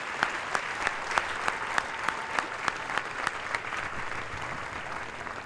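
Audience applause rises from a large crowd at an Air Force basic military training graduation ceremony, a broad steady clapping with a few sharp, close claps standing out against the wash.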